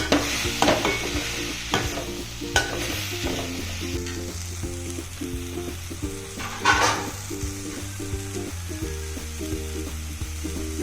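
Spiced masala for a homestyle egg curry cooking in a pan: a continuous close sizzle and frying crackle with occasional sharp scrapes and taps of stirring, no talking.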